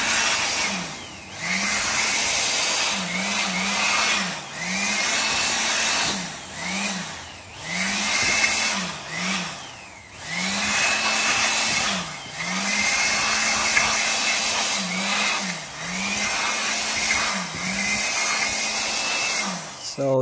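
A blower dries a freshly washed motorcycle magneto, its whirring motor rising and dipping in repeated bursts as it is moved over the part, close and loud.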